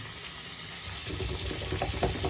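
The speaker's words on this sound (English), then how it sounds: "let the water fill up, and just add a little bit more dish soap" Tap water gushes and splashes into a basin being filled to wash a Spellground playmat, starting quieter and swelling into a steady, close rush with small sloshing bursts after about a second.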